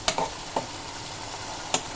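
Drumstick curry sizzles quietly in a pan, with a few sharp scrapes and taps of a spoon as chili powder goes in. Three brief clicks stand out against the low, steady hiss.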